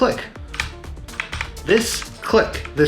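Razer Huntsman keyboard keys pressed in an irregular patter of sharp, close clicks, a few taps at a time, with a voice talking over them.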